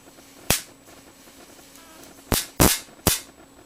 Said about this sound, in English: That's exactly the kind of arc I was expecting to get from it, but was not expecting it to arc over the edge like that